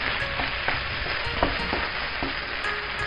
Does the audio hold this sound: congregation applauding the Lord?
no